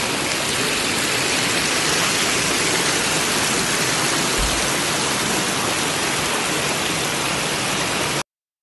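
Heavy runoff pours like a waterfall through a flooded garden plot on a street after a downpour, a loud, steady broadband rush of water that stays constant from start to finish with no voices.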